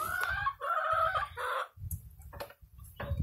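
Chickens cluck and a rooster crows in a noisy farmyard, with repeated loud calls overlapping throughout the short stretch and low rumbling noise underneath.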